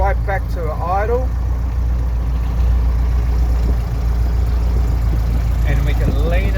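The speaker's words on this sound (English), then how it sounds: "we're going to reduce the throttle right back to idle" A Continental O-200E aircraft engine idles at low throttle, holding a steady, loud low-pitched drone while someone talks over it.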